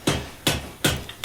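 Four sharp hammer blows land at a slow, even pace on a hot Damascus steel billet being forge-welded for a chef knife. Each strike rings bright and close, with short decays between them and no voices.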